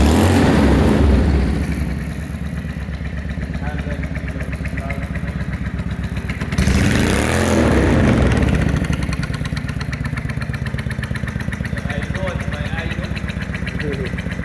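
A Honda Steed custom bobber motorcycle engine idling with a rough, throbbing rumble, briefly revving louder midway, then settling back to a steady idle.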